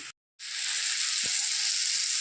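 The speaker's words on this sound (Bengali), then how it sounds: "শাপলা আমি এইভাবে নেড়ে নেড়ে ভাজবো, ঢেকে ভাজবো না" Water lily stems frying uncovered in a pan while being stirred, a steady bright sizzle after a brief cut of silence, with a couple of soft utensil knocks.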